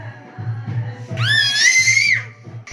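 At a brother's wedding, during the ubtan ritual, a happy child lets out one loud, high, sustained shout lasting under a second, with murmured adult talk and a low hum before and after.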